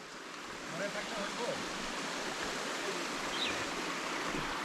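Steady, full rushing water from a stream and the Thaan Kowain waterfall in Alikadam, Bandarban, a constant hiss-like flow filling the scene at moderate level.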